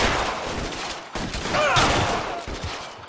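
Gunfire in the L.A. Noire video game, a loud burst of rapid shots with sharp cracks and a ringing tail, heard close and filling most of the moment.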